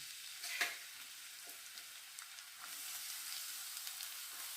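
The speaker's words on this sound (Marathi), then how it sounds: "त्यात पहिलं आपण तेल घालूया, नंतर कांदा घालूया" Oil and chopped onion sizzle in a pan over low gas for a Marathi-style bitter gourd curry, a steady close hiss with a few brief crackles and stirring sounds and no talking.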